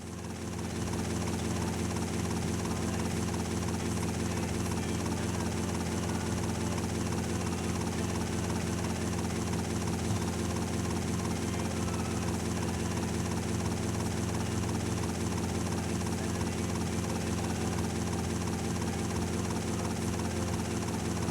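Helicopter rotor and engine drone from GTA Vice City Stories on PS2, a steady loud continuous whir that runs the whole length with no breaks.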